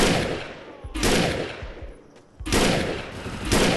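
Semi-automatic gun fire in the Defiance shooter game: loud bursts of rapid shots in two long volleys separated by a short pause, close and dominant, with echoing impacts.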